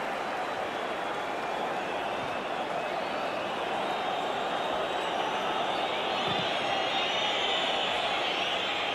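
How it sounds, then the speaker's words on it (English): A large football crowd at a 1990 FA Cup semi-final between Manchester United and Oldham Athletic whistles loudly at half-time of extra time, a dense steady roar with shrill whistles rising above it in the later seconds. "Crowd whistling for the half-time whistle of extra time"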